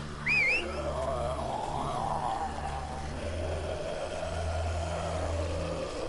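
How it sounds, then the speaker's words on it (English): A short, sharp two-note finger whistle rings out early in a video game scene of The Walking Dead, heard over a steady low engine rumble and ambient outdoor noise. "Just had to whistle, huh?"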